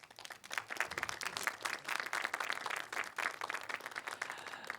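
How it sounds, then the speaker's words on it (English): An audience at a game music awards round table claps for the nominees, a fairly quiet, scattered round of applause that swells and fades unevenly. "I just wanted to give a quick round of applause for the nominees"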